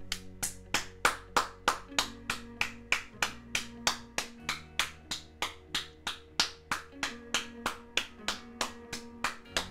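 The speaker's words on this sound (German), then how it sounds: "deshalb jetzt einen Applaus an dieser Stelle" Steady rhythmic clapping in honour of a cyclist's farewell, about three even claps per second for ten seconds over a soft, low tonal hum.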